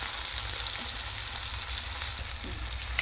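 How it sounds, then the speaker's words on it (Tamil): Onion, tomato and green chili sauté in a hot pan for a fish curry, giving a steady close sizzle with a faint stir or two and no speech. "இப்போ நல்லா வதக்கி விடணும்."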